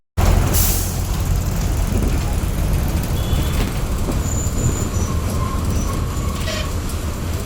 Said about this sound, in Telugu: ఈ ఎక్స్ప్రెస్ బస్ తిరుపతి నుండి జమ్మలమడుగు వెళుతోంది.